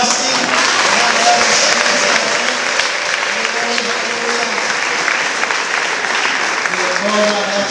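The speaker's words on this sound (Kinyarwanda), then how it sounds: "dushimire Imana yacu tuyikomera amashyi" A church congregation claps together in sustained, dense applause that continues without a break, with voices mixed in beneath the clapping.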